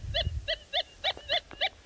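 A Minelab Gold Monster 1000 metal detector sounds a target tone in the gold fields, six short bright beeps evenly spaced and close, over low rumbling handling noise.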